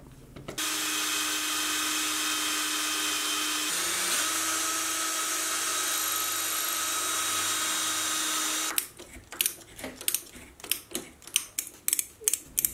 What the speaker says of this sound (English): and then I'll drill and tap them